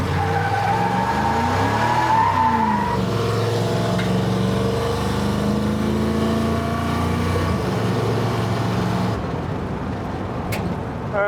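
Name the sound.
car engine running with an oversized carburetor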